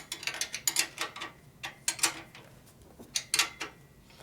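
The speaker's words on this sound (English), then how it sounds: "Okay, I'm going to tighten up the back bolt right here." Ratcheting clicks from a wrench tightening a rear bolt on a 1965 Harley-Davidson 74ci FLH panhead motor during a rebuild, quick bursts of metallic clicking with short pauses, close and fairly clear, no speech.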